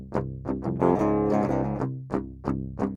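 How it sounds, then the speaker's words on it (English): Four unprocessed DI guitar tracks play a slam death metal riff together, thin and clean with sharp picked attacks, a sustained chugging passage in the middle, then separate stabbing hits toward the end, close and moderately loud with no voices. "we've got 4 DI tracks, and they sound like this."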